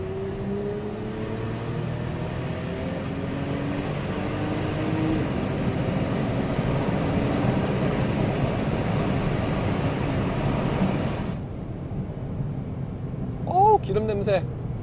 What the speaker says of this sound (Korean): 이게 지금 이제 스포츠 배기를 켰는데 한번 느껴보도록 하죠